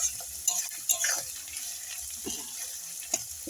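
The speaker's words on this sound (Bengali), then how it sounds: "পেঁয়াজ আর লাল লাল কাটিয়ে লঙ্কা সব এর মধ্যে দিয়ে দিলাম, দিয়ে এটাকে একটু ভাজা ভাজা করে নিতে হবে।" Onions and red chillies frying in hot oil in a pan, a steady close sizzle with brief scraping stirs of a spoon, no voices.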